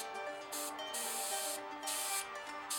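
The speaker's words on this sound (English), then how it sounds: "just the air, you get a spray," Iwata Eclipse CS HP or Paasche Talon TG airbrush releasing a steady hiss of air in several short bursts, each broad and airy, close and fairly quiet, with no talk.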